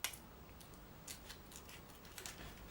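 Scissors snip through flashlight plastic packaging with quiet, irregular crisp cuts and crinkles, close by and faint.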